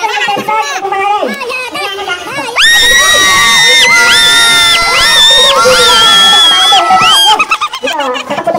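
A crowd of children and adults at a pool resort contest shrieks and shouts together in loud, sustained screams, with cheering and chatter rising around them and bursts of talk at the start and end.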